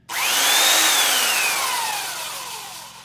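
A belt sander with its dust bag removed runs freely with no workpiece, a steady loud broadband whir that spins up, holds and begins to wind down over about three seconds, with no voices.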